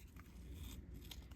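Scissors trim the edges of a sheet of paper in quick, faint, close snips and crisp cutting sounds, with no talking.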